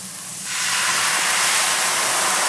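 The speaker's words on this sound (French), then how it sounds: "on verse d'abord le vin blanc" White wine poured into a very hot pan to deglaze, erupting into a loud, broad steaming sizzle that swells within half a second and holds steady, close and dominant.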